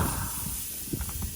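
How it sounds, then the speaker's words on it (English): Tri-tip steak sizzles on a hot, smoky grill, a close, steady broadband hiss with faint pops throughout a short stretch. "Let's hear the sizzle."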